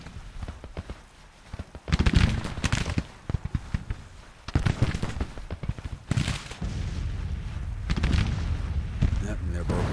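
Cannon and musket fire from a battle in the Civil War strategy game Grand Tactician: The Civil War, heavy booming bursts recurring in waves over a steady din, with talk over it.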